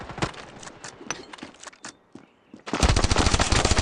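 Automatic and single gunfire from the mobile shooter game Standoff 2, rapid bursts of loud shots, a brief lull, then a sustained dense volley close up.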